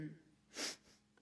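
A single short, breathy sniffle from a singer at a living-room concert, close and brief, rising and falling within a quiet background.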